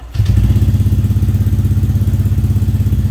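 A 2012 Honda Vario 125 scooter fitted with a keyless remote module starts up close by, a brief cranking thump followed by a steady, rhythmic idle putter that continues to the end.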